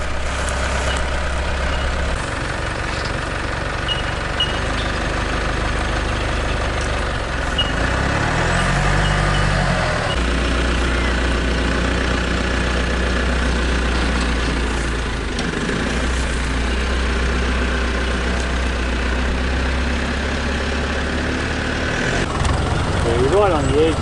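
A Mitsubishi 4WD idles steadily on a driver-training course, its low engine rumble continuous and close throughout while people talk over it.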